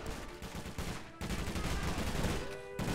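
Gunfire in a bank heist shootout in GTA V, a dense continuous rattle of overlapping shots with a brief drop near the middle, loud and close with constant background din.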